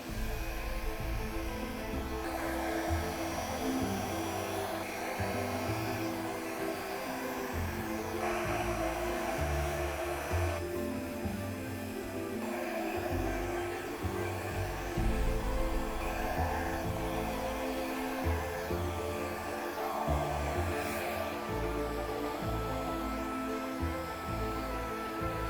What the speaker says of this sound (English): Where's my blow dryer?